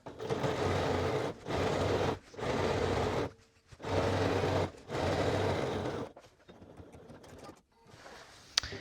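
A sewing machine stitches a skirt seam, running a second line a quarter inch from the first, in five steady motor bursts separated by short pauses, followed by quieter fabric handling and small clicks.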